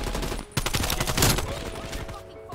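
Rapid automatic AK74u fire in the video game Call of Duty Cold War/Warzone, dense sustained bursts after a brief pause, loud and close, with some voice mixed in.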